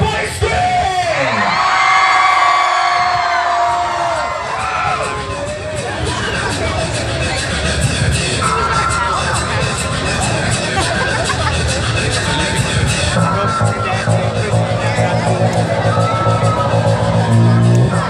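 A concert crowd at K-Fest 2015 in Houston screams and cheers loudly and without a break, with whoops and yells rising above a dense roar of voices.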